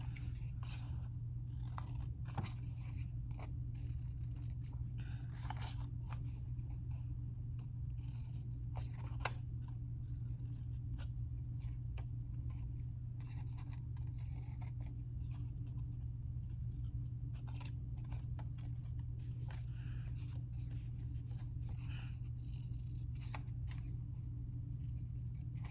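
Scissors cut paper for a pumpkin art project, with repeated close snips and crisp paper rustles over a steady low hum, continuing unevenly for the whole stretch.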